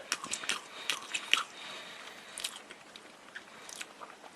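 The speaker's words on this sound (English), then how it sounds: "Let's take a bite here of this sausage" Close, soft crunching and moist chewing from a bite of fatty sausage off a Burger King breakfast platter, a run of short, uneven mouth sounds with brief pauses.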